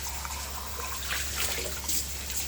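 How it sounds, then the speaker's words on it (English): Tap water trickling steadily into a pot in a sink while dishes are washed, a close, continuous splashing stream with small gurgles and no talk. "the pot underneath is getting full of water already"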